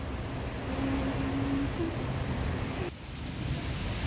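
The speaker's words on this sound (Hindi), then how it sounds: "अब बस बाहर की हवाओं की आवाज़ सुनिए।" Wind blows steadily outside in a summer garden in India, a broad, continuous rushing wash with a brief dip near the end, heard alone without talking.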